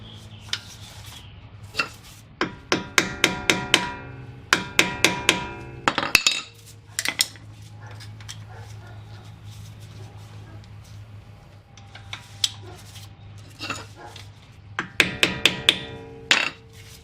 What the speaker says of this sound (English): Next, I'm going to unstake the axle nut so I can remove it.